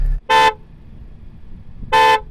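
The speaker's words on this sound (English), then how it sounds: "What we're going to do is honk the horn" A French Renault Megane Trophy's horn honks twice, two loud, short blasts separated by about a second and a half of quiet engine idle.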